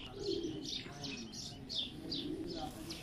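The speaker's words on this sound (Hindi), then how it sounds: "अभी आपको उनके जो ब्रीडर हिनो कबूतर हैं नज़ीर साहब वाले, उनका शो" Hino breeder pigeons coo on a rooftop in Lahore, soft repeated rhythmic calls close by with faint chirps, heard alone without talk.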